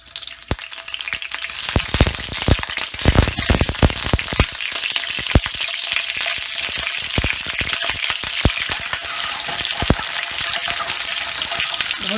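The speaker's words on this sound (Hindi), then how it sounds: "अंडे फ्राई करेंगे" Eggs frying in oil in a pan for andey aloo, a loud, continuous close sizzle broken by frequent sharp crackles and pops throughout, with no talking.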